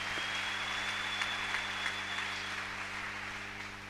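A church congregation breaks into applause to acclaim the word of God: a soft, fairly distant wash of clapping that holds steady for a few seconds over a low electronic hum and fades slightly at the end.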